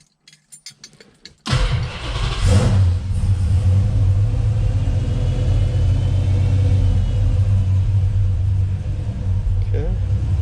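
A 1968 Charger with a swapped Gen3 Hemi engine cranks briefly with a few stuttering turns, then catches and settles into a loud, steady, rumbling idle close by, running on alone.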